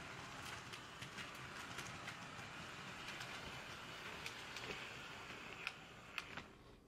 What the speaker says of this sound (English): most of the noise is made by the cars running on the track